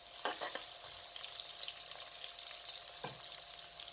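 Onions fry in hot cooking oil in a wok, giving a steady, close hiss and sizzle with a few brief stirring clatters and no speech.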